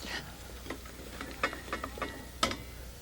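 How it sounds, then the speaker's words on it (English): A spoon stirs a sauce with a little garlic in a pan, making a string of soft scrapes and clacks at an uneven pace. The taps are close and fairly quiet, with a louder knock near the end. "We stir it."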